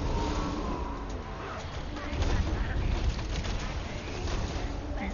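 Rapid machine gun bursts in the shooter game Borderlands 2, loud and dense and running for the whole stretch amid other battle noise.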